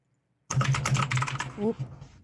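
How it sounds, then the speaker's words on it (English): Rapid typing on a computer keyboard during an online game session, a dense run of close clicks that starts abruptly and continues under a person talking. "CK, we can hear your keyboard."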